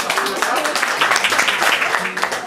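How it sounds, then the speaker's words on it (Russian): Audience applause at the opening of a musical evening in a venue called Megubari, a dense, steady wash of clapping lasting throughout with a voice talking over it. "Все ваши аплодисменты"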